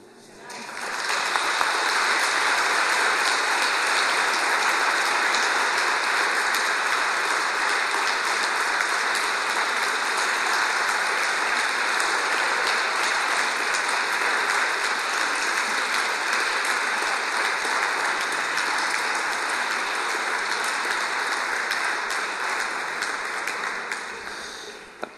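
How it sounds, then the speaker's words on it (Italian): Long, spontaneous applause from a church audience after a talk on sacred song and liturgical music, a broad steady wash of clapping sustained for many seconds before tapering off. "Applauso prolungato e spontaneo"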